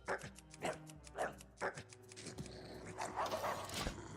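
A dog gives several short yips and barks in a rhythmic series, quiet and slightly distant, while music or game sounds play underneath and a later stretch turns into a brief whining cry.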